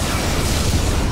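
A Klingon vessel blows apart in the space combat game Star Trek Legacy, one dense, continuous roar of blast noise filling the whole moment, loud and close with no voices.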